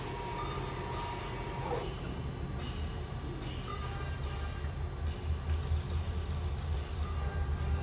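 A DMC DL-8T CNC turning center lathe from 2017 with a FANUC control runs its spindle at 1000 RPM, giving a steady, even mechanical hum and whir that holds unchanged throughout with no voices.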